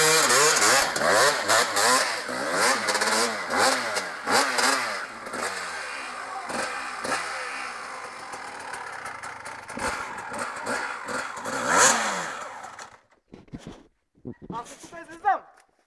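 Motorcycle engine idling and revving with rising and falling pitch sweeps, loud and close, while people talk over it; the engine cuts out near the end, leaving brief bursts of speech.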